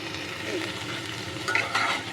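Lentils go into hot ghee and oil with dried chilli, giving a close, steady sizzle and stirring sounds that grow a little louder near the end.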